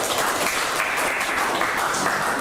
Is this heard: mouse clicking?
no